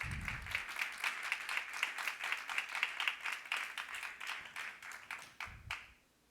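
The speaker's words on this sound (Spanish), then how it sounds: "Dale palmas." Church congregation clapping along in a steady, rhythmic beat during a Spanish-language sermon, a fairly loud, roomy sound of many hands that fades out at the end.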